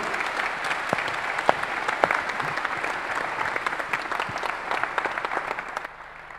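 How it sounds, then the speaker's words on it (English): Conference audience at a business event clapping together, a dense, sustained round of applause close by with a few sharper individual claps standing out before it thins and fades at the end. "let's give them all a big round of applause and say thank you"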